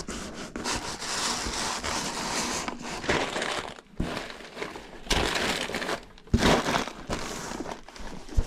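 Tissue paper for shoes is crumpled and crinkled up close while a pair is packed after a sale. It comes as repeated rustling, crackling bursts separated by short pauses, with no speech.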